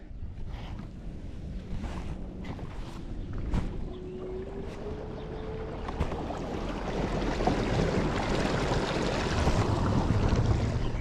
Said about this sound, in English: Bring the motor down all the way. Give it a little bit of juice.